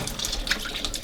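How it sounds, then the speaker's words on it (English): Water runs from a pressurised tap aboard a boat, a soft steady hissing trickle that stays close and fairly quiet across the short stretch, with no talking over it. "look at that, a little bit of water coming out"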